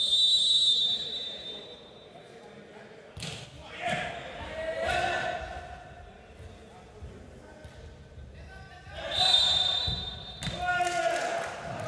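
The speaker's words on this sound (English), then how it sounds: "That full whistle" Referee whistle at a men's beach volleyball match between the Netherlands and Latvia, shrill blasts near the start and again later, amid crowd noise, ball thuds and commentary.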